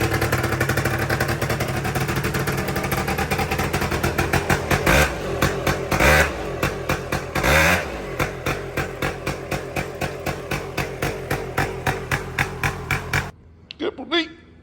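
A Yamaha BW80 motorcycle revs hard while being ridden, its two-stroke engine rattling in rapid pulses that surge and fall, close and loud, with a voice briefly heard before the engine cuts out near the end.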